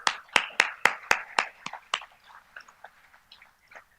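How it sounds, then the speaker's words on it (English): Hands clap at a 50th anniversary cocktails and award ceremony, a few loud, sharp claps in a quick rhythm that thin out and fade into scattered soft claps. "A round of applause, please."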